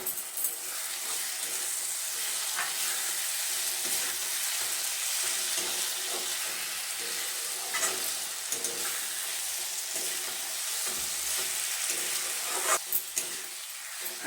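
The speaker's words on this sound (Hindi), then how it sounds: "अब इसे फ्राई करेंगे 3 से 4 मिनट तक, टमाटर गलने तक" Tomatoes frying in hot masala oil give off a continuous close sizzle and hiss, with occasional faint stirring scrapes and light clinks and no voices.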